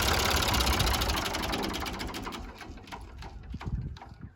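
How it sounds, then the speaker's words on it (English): An old Ford 3000 tractor engine, recently revived after seal repairs, idles steadily at close range with a rough, even chugging that eases slightly toward the end, no talk heard. "Really good running motor."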